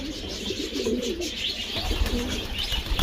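Racing pigeons from a competition loft coo in low, rolling phrases alongside scattered chirps, steady and close over a constant background hum.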